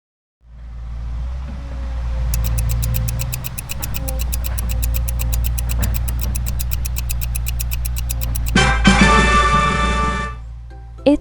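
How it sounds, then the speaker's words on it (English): Heavy excavator engine rumbling steadily with a deep low drone, a rapid clicking or beeping pattern above it, then louder clattering and rattling near the end before it cuts off; no talk. "It's an excavator."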